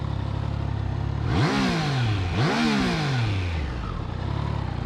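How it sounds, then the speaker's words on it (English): A Triumph Trident 660 triple-cylinder motorcycle engine revs twice, each sharp rise falling back to a steady idle, loud and close with no talking. "That triple sound is pretty cool, right?"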